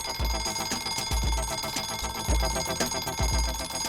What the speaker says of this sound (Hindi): ज्ञान बाद में, पहले अलार्म बंद कर दे।